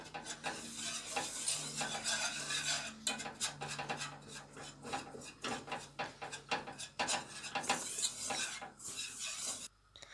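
Flour and tomato paste are stirred and roasted in oil in a pan, with a spoon scraping and rubbing over a constant soft sizzle. The strokes come in irregular bursts, close by, with no voices.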